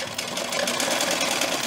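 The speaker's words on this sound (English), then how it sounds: "So I'm actually just going to put my sewing machine just on kind of a zigzag," A sewing machine runs a zigzag stitch across a small blanket piece for a llama ornament, giving a steady, close, continuous mechanical whir with no pauses or voices.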